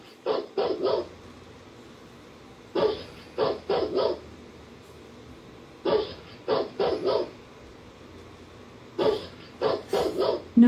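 A Rottweiler's recorded barking played through a smart speaker comes in four separate bursts of several deep, rapid barks each, with short quiet pauses between them and no talk over it.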